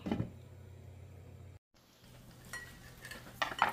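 Pot being covered with a lid while vegetables cook for ginataang alimango, a short metallic clatter near the start, then a quiet gap and a soft simmering hiss with a few light clinks toward the end.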